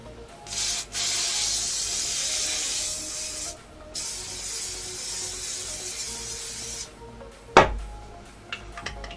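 A steady hiss of an aerosol can spraying in long continuous bursts with brief pauses, followed by a clunk and a few light knocks.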